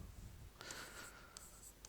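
Chalk or marker strokes on a board during a physics lecture on electrostatics come as a few short, faint scratching bursts in a quiet room.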